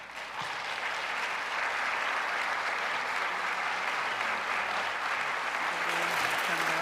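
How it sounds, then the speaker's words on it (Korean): A church congregation claps warmly during a flower bouquet presentation at a pastor's retirement service, a dense, even wash of applause that holds steady from start to finish. "우리 꽃다발을 받으실 때 여러분 뜨거운 박수로 축하해 주시기 바랍니다"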